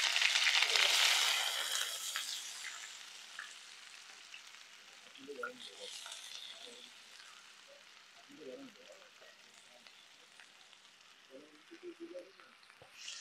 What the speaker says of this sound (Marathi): तर आता तेल गरम झालंय तर मी त्याच्यामध्ये आता कांदा टाकतोय.